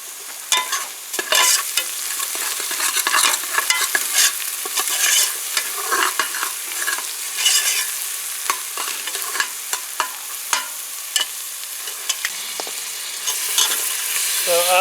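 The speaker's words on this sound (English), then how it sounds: "we're gonna fry this for about 2 minutes" Beef and potatoes sizzling in a pot for Guyanese stew beef, with a steady hiss of frying and repeated scraping and clinking of a spoon stirring through the pan.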